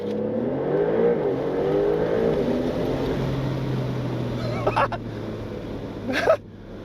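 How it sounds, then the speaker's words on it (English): A 2026 Porsche 911 Targa 4 GTS engine revs and surges in a launch-control start, pitch climbing as it accelerates hard to 60 mph, loud and close, with a couple of sharp bursts near the end. "Foot firmly on the brake, pin the throttle, hold the revs, it's active, let it."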